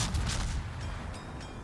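Distant booming rumble of naval gunfire from the warship Le Terrible in a naval battle game, a dense low roll with a couple of faint cracks layered over continuous background noise, no talk.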